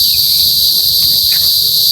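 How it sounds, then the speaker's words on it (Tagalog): A cricket chirps as a continuous, steady high-pitched trill at a hut, loud and close and unbroken throughout, with no speech over it. "Oh, si kuliglig."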